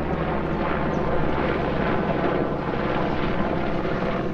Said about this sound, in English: That's not a little helicopter.